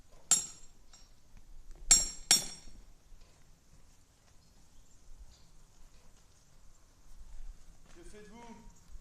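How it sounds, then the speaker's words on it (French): Metal being straightened with a hammer: a few sharp ringing blows in close succession, then quieter taps and faint clinks, with a voice briefly audible near the end. "Là, j'entends des coups de marteau."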